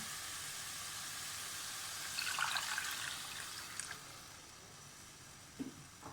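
Water is poured into moong daal frying in a pan for a dhaba-style tadka, giving a brief hissing, splashing pour midway that rises and then fades. A few small clinks follow, and no one speaks.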